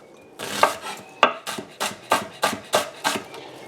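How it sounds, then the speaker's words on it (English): A knife chopping half an onion on a cutting board, about eight sharp, evenly spaced taps in quick rhythm, close and loud with no talking. "we use a half an onion that we chop up"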